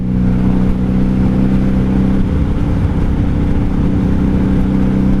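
A 1997 Honda Magna VF750C V4 motorcycle with Vance and Hines exhaust pipes runs steadily at highway speed, a loud, constant engine drone with wind rush.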